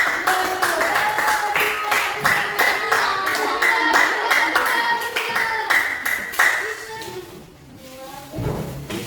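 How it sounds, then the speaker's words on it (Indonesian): A classroom group claps for group 1, quick rhythmic hand claps in a steady beat that break off near the end, with a voice at the close. "tepuk tangan untuk kelompok 1"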